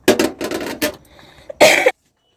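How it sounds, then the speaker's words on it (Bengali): A woman coughs in a quick run of harsh bursts, then pauses and gives one more loud cough, close by in a quiet room. "এখনও কিছু খেতে গেলে বা এ করতে গেলে এত কাশি উঠছে"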